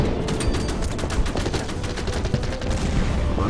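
Troops fire in the Order of Battle Pacific war game, set in the Philippines, with a dense, steady fusillade of rapid gunshots crackling continuously throughout.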